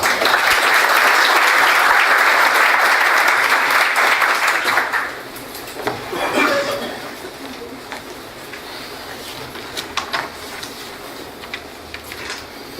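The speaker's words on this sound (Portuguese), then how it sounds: "Uma salva de palmas, por favor." An audience at a business event in São Paulo breaks into loud, dense applause that lasts several seconds, then fades to scattered claps and room noise.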